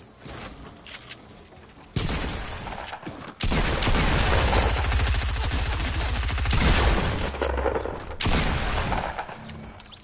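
Gunshots in Fortnite, loud rapid bursts of firing and booming impacts in several dense stretches, separated by quieter moments, close and harsh with no talking over them.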